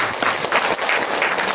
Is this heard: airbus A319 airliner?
no